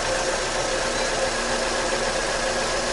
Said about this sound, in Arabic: ارتاح الموتور صوته ما شاء الله